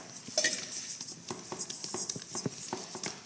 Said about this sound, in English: We're just going to put a couple dribbles of olive oil in there just to coat the dough so it won't stick